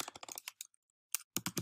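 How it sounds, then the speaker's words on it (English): Fingers type on a computer keyboard in quick bursts of crisp, close key clicks, with a short pause in the middle before the tapping resumes, quiet overall and without speech. "let's say I'm typing on my blog."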